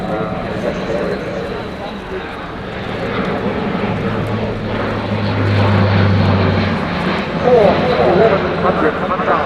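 An A400M Atlas turboprop military transport flying a tactical display at an air show, its engines droning loudly and steadily with rising and falling intensity, heard under a commentator's voice.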